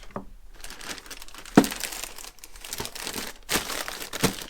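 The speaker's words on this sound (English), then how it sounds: "put your box in the bag, peel the strip" A plastic shipping bag crinkles up close as an adhesive strip is peeled and the mailer is sealed around a boxed action figure, with a few sharp rustling bursts between quieter handling and no talking.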